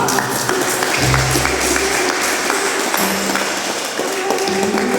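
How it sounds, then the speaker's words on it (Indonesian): Applause from a group at a GADA Pratama security guard training ceremony in Indonesia, a steady dense patter of clapping that runs loud through the whole stretch. "Tepuk tangan."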